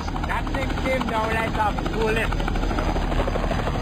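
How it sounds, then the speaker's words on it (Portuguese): A rescue helicopter's rotor chops steadily and loudly throughout a volcano disaster, with a voice speaking over the constant mechanical thrum. "Ele é levado a salvo pelo helicóptero."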